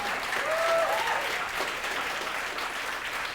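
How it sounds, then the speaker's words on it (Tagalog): A church congregation at a worship service applauds, a continuous crowd of clapping hands at moderate volume with a faint tonal whistle or voice rising briefly in the background. "Palakpakan mo ngayon ng the best si Lord"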